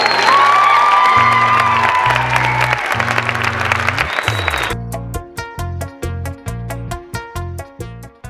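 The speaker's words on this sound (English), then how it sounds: "Give yourself a big round of applause" Applause and cheering from an audience at a Latinos In Action conference, dense clapping with whoops for about five seconds, then giving way to steady rhythmic music with distinct repeating beats.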